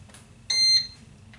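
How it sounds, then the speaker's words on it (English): A heating craft machine, likely a laminator, sounds a short electronic ready beep, one bright steady tone lasting about a third of a second, close and clear in a quiet room. "once my machine beeps, that means it's ready"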